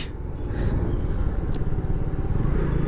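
A Suzuki Gixxer Carbon motorcycle engine drones steadily at close range, a continuous low rumble with no voices.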